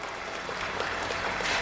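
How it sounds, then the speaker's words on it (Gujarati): A crowd at a political party rally in Gandhinagar breaks into applause, a dense, fairly distant wash of clapping that holds steady for under two seconds. "તાળીઓના ગડગડાટથી વધાવો."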